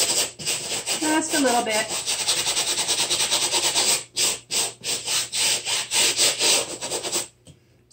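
A fabric lampshade is scrubbed with botanical face wash in brisk, rhythmic rubbing strokes, close and loud, with a brief spoken remark early on.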